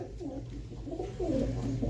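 Pigeons coo repeatedly nearby, soft throaty warbling calls overlapping one another over a low background hum.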